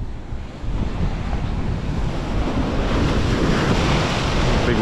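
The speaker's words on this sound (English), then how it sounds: "Big waves. Look at that." Big ocean waves break on a rocky shore during shore-based fishing, a loud, continuous roar of surf and wind noise that swells after the first half second.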